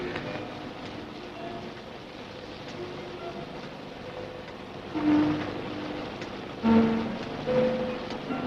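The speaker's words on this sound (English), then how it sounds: "It was a nasty night and the rain made it very difficult to see ahead." Steady rain falls through a stormy night in a radio drama, a soft continuous hiss with a low rumble and occasional brief louder swells, with no one talking.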